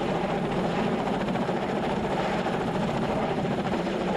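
Military helicopter, formerly a civilian rescue aircraft, hovers during wounded-evacuation training, giving a steady, loud, continuous rotor and engine roar that stays dense and unbroken throughout with no voices.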